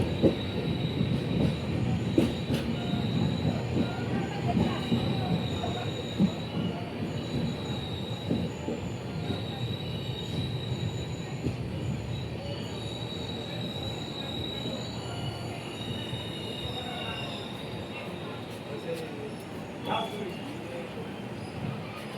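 The Kandari Express 22897 runs from Howrah toward Digha with a steady rumble and high, drawn-out wheel squeals recorded inside a nearly empty coach, while people talk over the noise.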